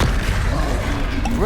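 Spells such as Confringo and Glacius cast in the Hogwarts Legacy video game, a dense run of booming blasts, crashes and whooshes stacked close together and loud throughout, with a faint voice mixed in.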